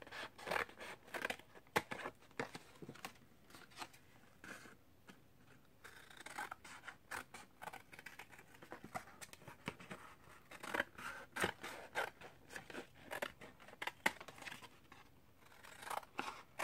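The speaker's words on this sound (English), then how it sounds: "I'm going to cut some of this off." Scissors snip and crunch through a paper seed packet for a garden journal, a long run of close, quiet, irregular cuts with rustling of paper between them.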